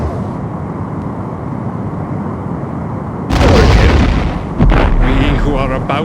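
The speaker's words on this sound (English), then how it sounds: "Torpedo away. Targeting Romulan Warbird." A photon torpedo launches at a Romulan Warbird in a Star Trek starship game, a loud sudden whooshing roar that bursts in after a steady engine hum, with a second surge following and voices around it.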